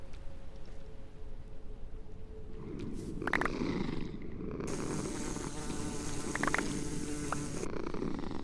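A queen bee purring in Minecraft, a low continuous buzzing purr with soft insect-like flutter and a few clicky game sounds layered on top, moderate and steady throughout.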